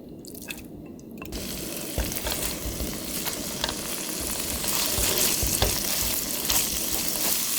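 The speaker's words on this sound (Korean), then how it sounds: "열한 다음에 양념해 놓은 고기를 먼저 볶을 거예요" Seasoned meat stir-frying in a lightly oiled hot pan for a Korean new-onion dish, a steady dense sizzle that builds and grows louder, with occasional clinks and scrapes of stirring, no talking.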